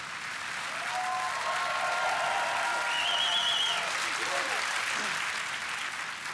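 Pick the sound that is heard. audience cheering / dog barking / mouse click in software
audience cheering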